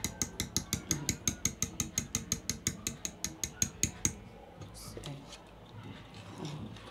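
Ghee mixed with vegetable shortening being beaten by hand in a bowl, a fast run of even rhythmic strokes for about four seconds, then stopping, with faint background noise after.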